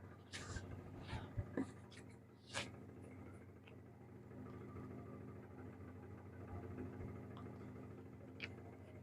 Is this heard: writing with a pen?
yes